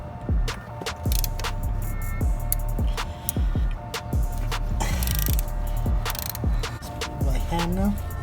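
A 12mm wrench turning a bolt on a Honda Civic shift linkage, giving a steady run of close metallic ratchet clicks with a few clinks near the end, and brief speech.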